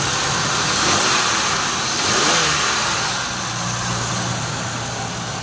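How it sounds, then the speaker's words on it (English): The engine of a 2003 Chevy Venture minivan runs steadily at idle with a low mechanical hum, rising briefly in a light rev before settling back; no voices. "You can hear the engine run here"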